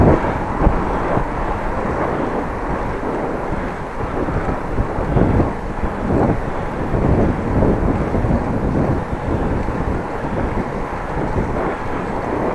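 Heavy head-on wind buffets a microphone while cycling on a Dutch bike, a continuous loud roaring rush with gusty surges throughout, no voices.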